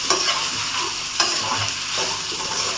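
Chicken noodles are stirred and mixed in a pan, with repeated scraping strokes and clinks over a constant frying sizzle, close and fairly loud.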